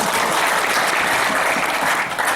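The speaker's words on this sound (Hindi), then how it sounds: "जोरदार ताली पड़ेगी" Loud, dense applause from an audience at a Hindi-language religious gathering, a continuous wash of many hands clapping at once, steady for the whole stretch with no talking.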